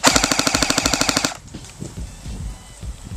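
An airsoft gun fires full auto on a 7.4 volt 1400 mAh 25C LiPo battery in a rate-of-fire test, a fast even burst of about 13 rounds per second for over a second, then it stops and leaves quiet handling noises.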